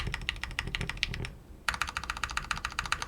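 Rapid clacking keystrokes on a newly built Bear65 mechanical keyboard, close and crisp, with a short pause in the middle before the fast typing picks up again.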